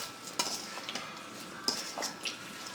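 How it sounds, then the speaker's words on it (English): Seasoned oxtail mixed by hand in a bowl, soft wet squelching and shuffling with occasional sharp clinks of the bowl, quiet and close. "I'm just gonna use my hands and mix it all up"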